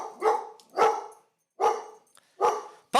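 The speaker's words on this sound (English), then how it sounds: "Puppies! Puppies!" Puppies bark in four sharp, separate yips with short silent gaps between them, fairly close and clear, with no talk.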